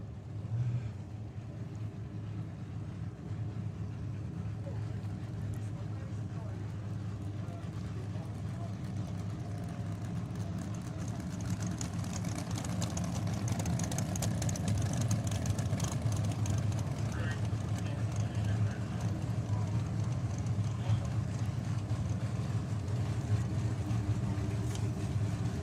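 Drag racing cars doing burnouts at a drag strip, a steady distant roar of engines and tyre spin that swells louder in the second half, heard from afar under a commentator's voice.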